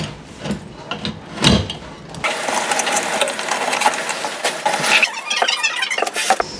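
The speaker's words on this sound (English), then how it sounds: "So I'm using a pry bar to do this because this is an old school box" A pry bar works an old fiberglass electrical box loose from a wooden stud, giving sharp creaking and scraping bursts, then a stretch of dense grinding, cracking and rattling as the box gives way, close and fairly loud with no talk.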